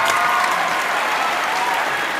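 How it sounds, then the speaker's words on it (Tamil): A studio audience at a televised competition applauds a finalist with loud, dense, continuous clapping that holds steady from start to finish. "அதுக்கும் ஒரு பெரிய கைத்தட்டல் கொடுத்துடலாம்."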